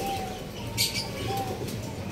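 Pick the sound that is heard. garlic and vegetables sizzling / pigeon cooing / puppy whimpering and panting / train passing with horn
pigeon cooing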